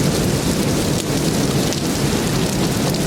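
Heavy storm rain pours steadily on a surface, with a low rumble of thunder underneath, loud and continuous with no voices.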